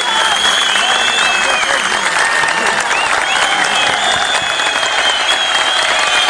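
Audience clapping at a Pashto poetry recital, steady dense applause throughout with a crowd murmur beneath, sustained and fairly loud, with some voices mixed in.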